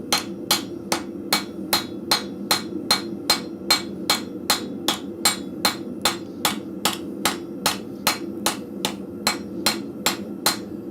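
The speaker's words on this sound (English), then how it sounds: "I'm pretty well trying to hit the same spot on my anvil and just moving the steel into underneath that hammer." Hammer blows on steel over an anvil in a blacksmith forge, about two dozen sharp ringing strikes at a steady even rhythm over a low background hum.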